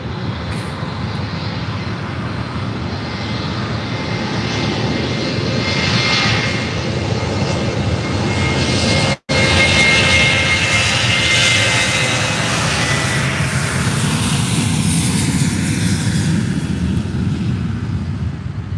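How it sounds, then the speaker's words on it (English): A Ryanair airliner takes off at Faro airport with a loud, sustained jet roar that swells and stays strong across the whole stretch, broken only by a split-second dropout midway. "there's this Ryanair taking off."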